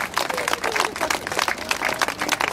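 A festival crowd at a bus-line opening show claps together in a fast, steady rhythm, loud and close, with a voice speaking over the clapping.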